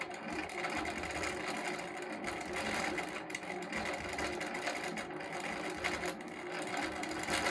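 A sewing machine stitching wavy lines around the edges of a quilt, a close, steady, fast mechanical whirring and clatter that runs without a break and with no talk.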